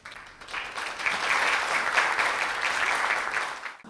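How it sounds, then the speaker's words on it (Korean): An audience at a university award ceremony breaks into sustained applause, dense clapping swelling quickly and holding steady for a few seconds before easing off. "다시 한번 큰 박수 보내주시기 바랍니다"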